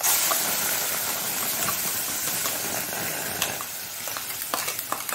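Tomato and onion mixture for Mangalore-style tomato sambar sautéing in a pan: a loud, steady hissing sizzle with occasional stirring scrapes and clicks becoming more noticeable near the end.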